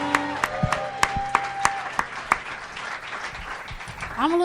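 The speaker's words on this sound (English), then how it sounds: "Clap your hands one more time for Vanessa G." A comedy club audience applauding a performer, scattered claps over a crowd with voices mixed in, fairly close and moderate in level, giving way to a speaker at the end.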